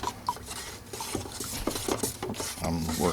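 Old paint being stirred in its original can for body work on a 1968 AMX, a stick scraping and sloshing around the bottom in close, uneven strokes.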